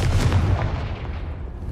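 In the Hogwarts Legacy video game, a Confringo fire blast spell goes off with a loud, close booming burst that rumbles and fades over under two seconds.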